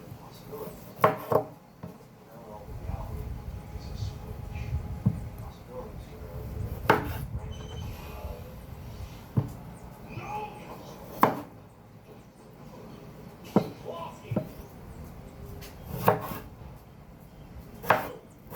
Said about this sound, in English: Just a rough chop on the tomato.